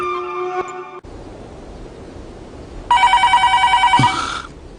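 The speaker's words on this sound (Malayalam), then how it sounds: "ആ ഫോൺ അടിക്കുന്നു." A telephone rings in two bursts, the first a sustained electronic tone and the second a louder pulsing trill that warbles rapidly, with quiet room noise between.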